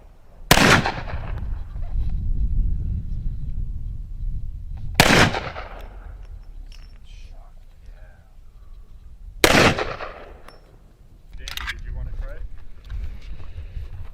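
Three loud, sharp gunshots ring out a few seconds apart, each trailing a short echo in an open outdoor space, with people talking between the shots.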